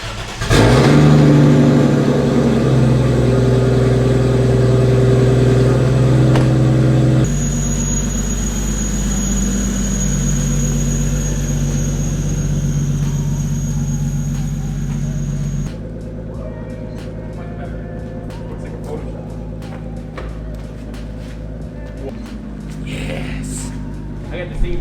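A Toyota Soarer with freshly replaced brake rotors and painted calipers idles and revs as it is moved outside, its steady engine drone shifting in level over the run, with a brief squeal, while people talk around it.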